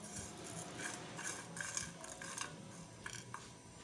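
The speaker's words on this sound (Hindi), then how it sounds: "ये सारे मसाले जो है साबुत गरम मसाला ये हम डाल देंगे, और इसको हम थोड़ा सा ड्राई रोस्ट करेंगे" Whole garam masala spices, including fennel seeds and star anise, dry roasting in a pan, producing faint, scattered clinks and rattling scrapes as they are stirred and tossed against the metal, with no talking.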